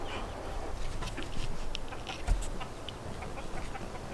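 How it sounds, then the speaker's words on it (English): A backyard hen perched on a fence beside a freshly cleaned coop clucks now and then, soft and fairly close, over a noisy outdoor background. "got a chicken on the fence"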